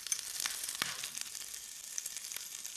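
Chili peppers dropped into hot oil for vermicelli upma, a bright crackling sizzle with sharp pops near the start, steady and close-up with no voices.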